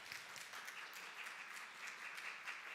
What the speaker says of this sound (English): Why don't we give these guys a round of applause?